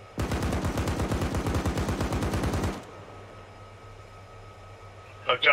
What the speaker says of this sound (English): Hose it down with machine gun.